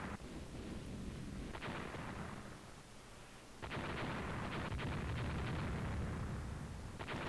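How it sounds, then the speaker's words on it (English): A torpedo strikes a battleship in the naval game Steam and Iron, giving heavy, rumbling explosion booms over continuous low battle noise. A second, louder blast swells partway through and keeps roaring. "One more torpedo hit."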